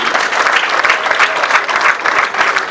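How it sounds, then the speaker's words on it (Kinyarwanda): Students and parents applauding at a school graduation ceremony, a dense, loud burst of crowd clapping close by, continuous for the whole stretch. "Ndagira ngo mumpere amashyi mwese, aba abanyeshuri n'ababyeyi."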